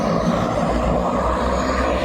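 Loud, continuous low roar of airplane engines droning steadily nearby at an airport in Nepal.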